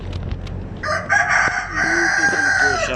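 Fancy chickens on a poultry farm in Bahawalpur are heard close by: a rooster crows loudly and draws out its call over scattered clucks and background clatter in a brief burst.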